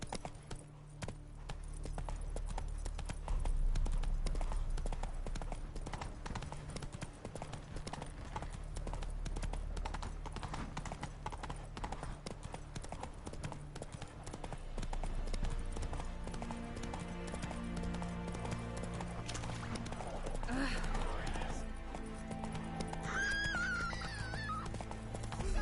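Hooves of Roach, the horse in The Witcher video game, clip-clop in a steady galloping rhythm, loud and close, over a continuous musical score, with a brief whinny-like burst near the end.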